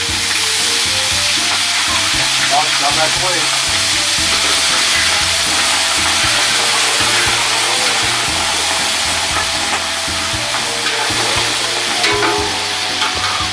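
Fish frying in hot oil for fish and chips, a loud, dense, steady sizzle with crackling bubbles throughout, a brief voice heard over it.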